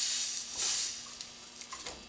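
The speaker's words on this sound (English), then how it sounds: "We have our steaming sausage patty here." Steady hissing sizzle of a wild hog sausage patty frying in a hot pan, close up, with a louder steamy burst early on and faint pops.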